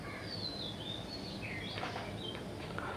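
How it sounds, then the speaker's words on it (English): Birds chirping in a forest at sunrise, several faint high twittering calls and short whistled phrases over a steady soft background hiss, distant rather than close, with no voices. "to a symphony of sounds, birds chirping melodiously"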